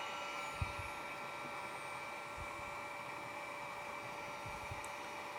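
A heat gun blows a steady, faint whooshing hum while shrinking a heat shrink hose clamp on a truck cooling system, continuous and without talk.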